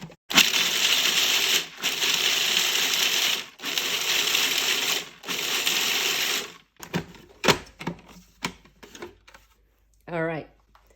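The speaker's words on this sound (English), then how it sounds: "I'm going to combine my almonds as well as my walnuts, and I am going to grind them." A kitchen grinder pulverizes almonds and walnuts into meal in three loud, steady bursts separated by short pauses, followed by scattered clatter and a brief voice near the end.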